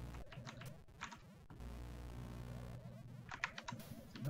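Light clicking of keys at a typing pool room in the Commodore 64 game Impossible Mission, short bursts of taps separated by a low steady electronic drone, faint and close.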